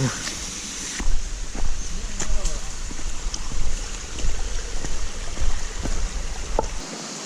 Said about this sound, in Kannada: ಇದೇ ಎರ್ಮಾಯಿ ಫಾಲ್ಸ್